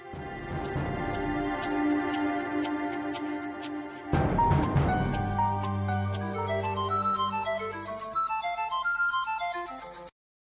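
A melodic phone ringtone plays loudly and steadily, its tune shifting partway through before stopping abruptly near the end; no one speaks.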